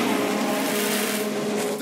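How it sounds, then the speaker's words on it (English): A Formula 1 car in F1 Manager 2022 spins out on track: a steady high engine whine with a tire squeal running under it, close and continuous, over a broadcast-style background. "They spun the car."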